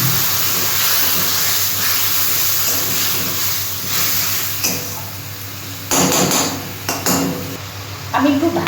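Water poured into frying masala in a pan for a fish curry with capsicum, a loud sizzling hiss with clinks of a spoon against the pan and a few sharper bursts near the end.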